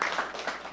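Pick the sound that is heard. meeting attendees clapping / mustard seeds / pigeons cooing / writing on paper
meeting attendees clapping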